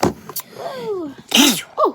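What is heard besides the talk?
sneeze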